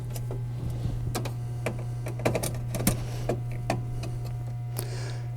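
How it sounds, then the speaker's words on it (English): Four screws being tightened on a 1954 Seeburg R jukebox, heard as a scatter of small sharp clicks and taps from the screwdriver over a steady low electrical hum, close up and with no voices. "We'll tighten the 4 screws."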